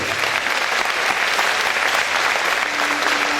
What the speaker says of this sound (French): Allez, applaudissements pour Ivani, s'il vous plaît